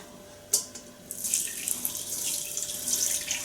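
Pandan leaf water poured through a strainer while making a Thai pandan pudding, a steady splashing trickle that starts with a small clatter and keeps flowing close and fairly loud, with no voices.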